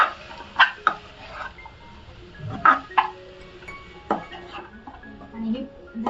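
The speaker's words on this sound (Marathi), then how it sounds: "मी हे मुळ्याची भाजी घालणार आहे. छान अशी आहे ना परतून घ्यायची." Radish bhaji being stir-fried with sautéed onion in a pan, giving scattered clinks and scrapes of a spoon against the pan, a few sharper knocks, over a faint background.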